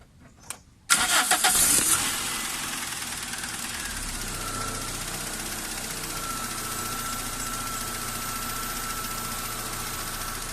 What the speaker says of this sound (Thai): นี้ผมได้ทำการติดเครื่องยนต์ขึ้นมาแล้วนะครับ